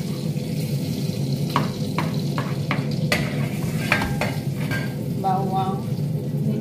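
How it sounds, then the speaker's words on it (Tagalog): Garlic frying in a pan, a continuous close sizzle with stirring utensil scrapes and clinks against the pan layered on top. "ilagay na natin yung bawang."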